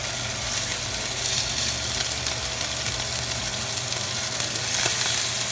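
Chicken pieces coated in taco seasoning sizzle steadily in a hot frying pan, a loud, even crackle running throughout with a fan humming beneath and no pauses.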